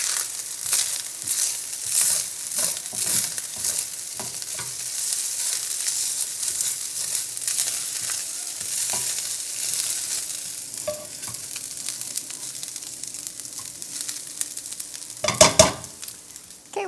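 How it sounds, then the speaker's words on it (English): Shrimp fried rice sizzles and crackles in a hot pan while being stirred, with a steady bright hiss broken by scraping and rustling strokes and a louder stir near the end. "We want to get a nice crisp rice on the bottom side, and you'll know that when you hear it starting to sizzle."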